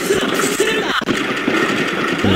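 Heavy gunfire in the World War II shooter game Rising Storm, a loud continuous roar of overlapping shots and battle noise with a brief dip in the middle.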